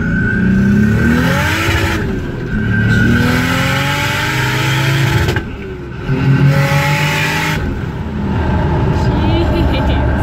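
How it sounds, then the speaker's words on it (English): A Lexus GS300 on a dyno at full throttle roars loudly, with its engine note climbing in repeated rising sweeps. The revs dip briefly between gear pulls and then surge again, continuous and close. "I'm going to punch the throttle"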